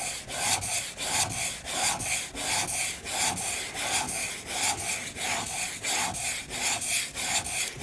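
A plane blade is pushed back and forth on a clean, oiled sharpening stone in steady, even strokes, roughly two per second. The rasping scrape is close and regular, with no talking.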